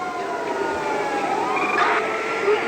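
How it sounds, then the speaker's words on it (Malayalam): A wailing police siren from the GTA video game rises and falls continuously, sounding fairly close, with no voices over it. "പോലീസും സൈറനൊക്കെ കേൾക്കുന്നു."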